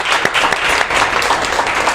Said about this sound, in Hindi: एक बार जोरदार तालियां हो जाए परमेश्वर के लिए